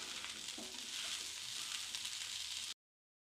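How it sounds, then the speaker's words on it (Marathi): Green tomatoes frying in oil over a low gas flame, a steady close hiss and sizzle throughout before stopping abruptly. "मंद गॅसवरती टोमॅटो छान आपल्याला भाजून घ्यायचा आहे खमंग असा"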